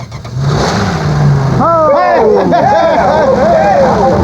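A car engine dosed with Prolong engine treatment and a little gas turns over and revs up and down in loud, close surges, with background voices underneath.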